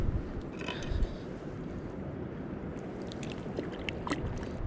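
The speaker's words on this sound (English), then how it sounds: "as you can hear in the background, is the wind" Wind buffeting outdoors on a spring fly-fishing river in the Rockies: a continuous low rumbling rush with faint water movement and light clinks, steady and fairly quiet.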